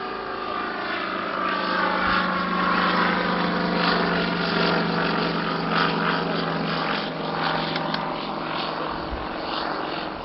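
Vintage propeller aircraft with folding wings flying at Old Warden, its engine droning steadily and loud for the whole stretch, with a slight swell in pitch as it passes.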